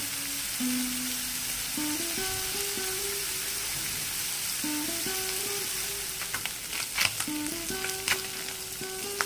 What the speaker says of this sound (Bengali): গ্যাসের ফ্লেমটা হাই রেখে মাছগুলো ভেজে নেব